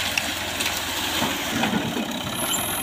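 A tractor engine runs steadily in a cornfield during planting, a continuous broadband drone with low mechanical rumble and no break in level, fairly close and alone.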